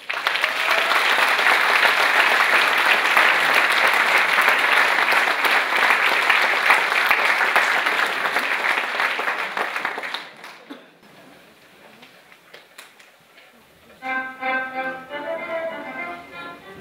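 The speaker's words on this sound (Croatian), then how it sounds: "Pozdravimo ih jednim velikim pljeskom." A concert audience applauds a folk dance group, a dense, loud, sustained wash of clapping that fades out after about ten seconds into quieter room noise, followed by a brief burst of music near the end.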